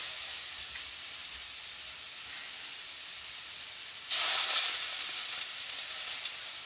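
Fruit chunks, including papaya and kiwi, frying in a pan, a steady close sizzle that swells louder and brighter as more pieces hit the hot surface, no talk.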